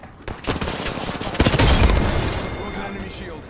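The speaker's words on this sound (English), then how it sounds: "Throw my grenade out. All right, frag out." A frag grenade detonates in the Apex Legends video game, a loud booming burst in the middle of the clip amid gunfire-like game effects, with a voice talking over it.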